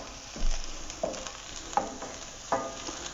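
Green onions frying in a pan for a chickpea curry with coconut milk, a steady low sizzle broken by a few sharp clicks and scrapes of stirring, close by with no talking.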